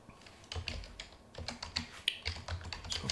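Fingers type a password on a computer keyboard, quiet close keystrokes in an irregular burst of clicks with no speech.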